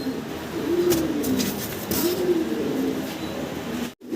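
Fancy pigeons at a pigeon farm coo in soft, low rolling calls, two or three swelling phrases close by over steady background noise and faint chatter.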